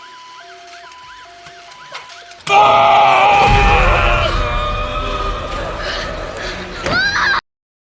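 After a few soft tones, a loud, long scream from a ghost horror film bursts in and wails on for several seconds, fading somewhat before ending abruptly.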